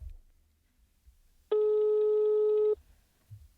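A single steady telephone ring tone sounds for about a second over a quiet line, clean and moderately loud, with faint handling noise before and after.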